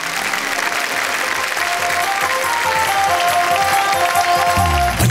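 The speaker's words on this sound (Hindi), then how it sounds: "जोरदार तालियों से।" A studio audience at a Hindi comedy and poetry show applauds loudly and continuously, with crowd noise and music tones sounding beneath the clapping.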